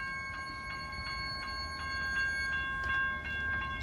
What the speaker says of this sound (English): So I am boarding the train.